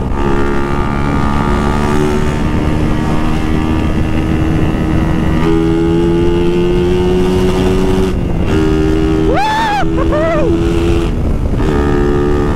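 A Suzuki Raider R150 Fi motorcycle with a remapped ECU on a long ride, its engine droning steadily at close range with shifting pitch, plus wind rush and a brief rising whine.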